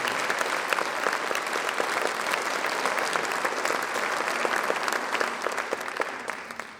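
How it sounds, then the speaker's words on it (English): A banquet audience gives a dense, sustained round of applause at an annual dinner event, with steady clapping that tapers off slightly at the end. "Please join me in a round of applause."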